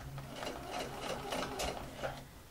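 A domestic sewing machine stitches a neckline placket in short, rapid bursts with brief pauses, a close, steady mechanical whirr and needle clatter with no talking.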